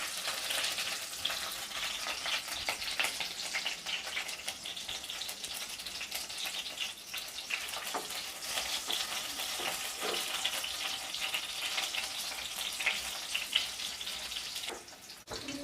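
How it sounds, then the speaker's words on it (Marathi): Green chilies fry in about four teaspoons of oil on a gas stove, a steady, fairly soft sizzle that continues evenly throughout. "चांगला भाजून घेऊया मिरच्या।"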